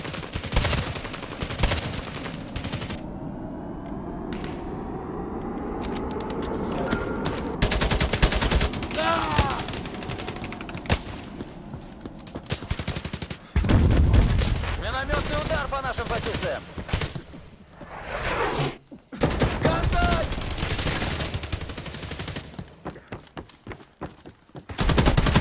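Dense bursts of automatic gunfire and single shots fill a first-person video game shooter match, loud and nearly continuous with brief lulls, while players shout and talk over the shooting.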